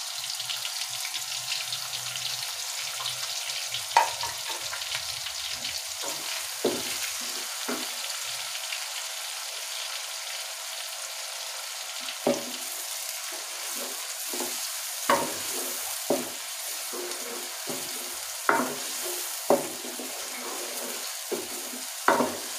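Chopped onions frying for keema in a pan, a steady sizzle running throughout with repeated scraping stirs and clinks growing more frequent toward the end.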